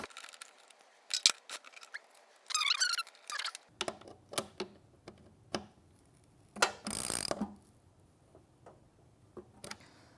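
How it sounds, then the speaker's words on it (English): Socket wrench ratchet tightening nylock nuts during assembly of an Allegro Reformer with a Konnector tower, heard as scattered close ratcheting clicks and short bursts of metallic handling noise with quiet gaps between. "And then I'll take my socket or my wrench and tighten these down."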